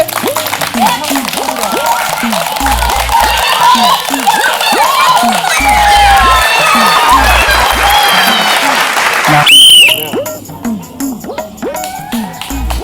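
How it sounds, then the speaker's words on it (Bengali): Schoolchildren clap loudly and rhythmically during a cup-tower-building game. An adult voice chants over the steady claps the whole time, with light laughter in the mix. "জোরে তালে জোরে তালে জোরে তালে জোরে তালে"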